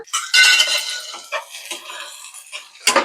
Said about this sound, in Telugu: ఇలా వేపుకోవాలండి కలుపుకుంటూ పైన కింద ఇలా కలుపుకుంటుంటే అడుగుకి పైకి అడుగు పట్టకుండా వేగుద్ది ఉల్లిపాయ